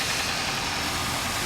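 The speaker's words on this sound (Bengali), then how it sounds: "গাড়ি স্টার্ট করে দিলাম" A car engine, just refitted along with a new gearbox, idles smoothly with a constant, even rumble close to the microphone and no talking.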